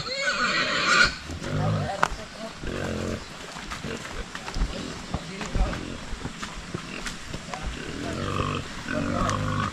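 A pig being weighed at 91 kilos and loaded for sale on a remote farm, squealing loudly in several bursts over scuffling, with people talking and calling out nearby.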